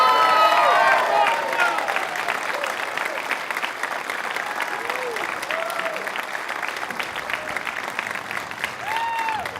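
Applause and some cheering from a crowd greet a player introduced at a women's pool semifinal in the 2016 Masters Championship, a steady dense clatter that fades slightly after a louder start, with faint voices underneath.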